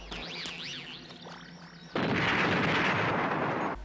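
A flat burst of film grenade explosion sound effect, like a child's firecracker, erupts after a stretch of whistling, warbling soundtrack tones and holds as a loud, hissing roar for nearly two seconds before cutting off.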